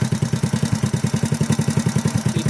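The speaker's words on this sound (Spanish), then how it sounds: "Se siente la moto ya con el mofle instalado" A Honda C90 motorcycle engine with its muffler fitted runs at a steady idle after a piston replacement, giving an even, rapid chugging pulse that stays close and fairly loud throughout.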